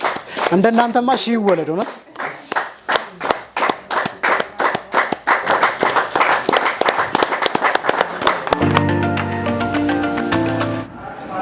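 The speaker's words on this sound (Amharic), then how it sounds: "ሞቅ አድርጋችሁ ሁላችሁም አጨብጭቡላችሁ።" An audience at an Ethiopian game-show surprise celebration claps in a long rapid burst of applause, loud and sustained. A voice speaks over the start, and music with a steady beat comes in near the end.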